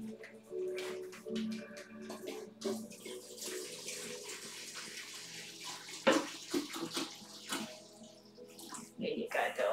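Tap water runs into a sink or basin to fill a dog's bowl, a continuous splashing gush with clinks and shifting flow, while a person speaks softly over it.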